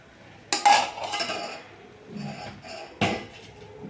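A spoon scraping and clinking against a pot while stirring urad dal porridge (ulundhu kanji): three close, brief strokes with rasping scrapes between them, no voices.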